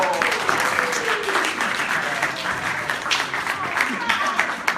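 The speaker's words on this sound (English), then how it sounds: "Let's give him a round of applause." Audience applause at a Scout recruitment night, steady dense clapping from a seated crowd filling the room throughout, with voices faintly audible underneath.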